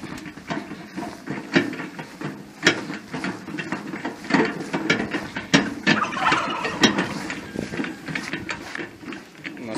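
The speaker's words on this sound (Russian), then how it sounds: "Приветствуют индюки." Turkeys on a poultry plot gobble repeatedly at moderate distance, bursts overlapping with rattling wheelbarrow clatter and footsteps, no talk.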